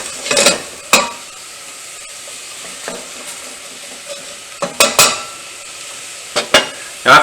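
Spices for caldo verde are stirred in a hot pan: a soft continuous sizzle runs underneath while the utensil clacks and scrapes against the pan in several sharp knocks.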